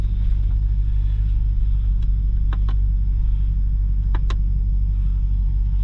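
A fire-damaged replica Ferrari drives on a public road, its engine giving a steady, loud low rumble throughout with a few brief clicks and knocks over the top.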